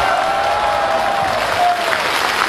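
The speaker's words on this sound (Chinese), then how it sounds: "来，掌声送给" Applause from a studio audience after a comedy sketch on a Chinese television show, a dense, steady wash of clapping at a close, even level for the whole stretch, with no talking over it.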